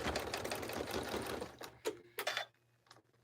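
A sewing machine stitches steadily in a fast whirring rattle over a zippered pouch's handle, then slows into a few short bursts before stopping, close by.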